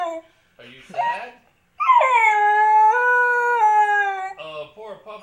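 Sad puppy howling and whimpering, a long drawn-out mournful howl in the middle framed by short broken whines and yips before and after, close and clear.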